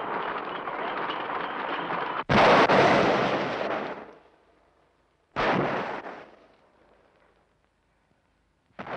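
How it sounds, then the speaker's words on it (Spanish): Heavy cannon blasts boom nearby in a 1958 Spanish film, three separate shots, each with a long rumbling decay that fades into near silence before the next. "¿Por qué suenan esos cañonazos?"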